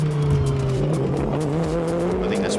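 An old Lamborghini drift car holds a loud, steady engine drone that climbs slowly in pitch, with rough, raspy tyre noise layered over it throughout.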